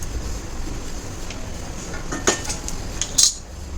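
Roasted fennel seeds scraped and tipped out of a pan for Malvani masala, giving a soft background hiss broken by a few sharp metallic clinks near the end.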